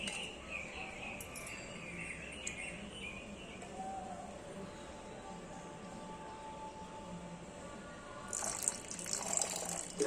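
Water trickles and splashes into a coconut shell at a steady low level, with a louder pouring burst near the end; faint bird chirps in the background.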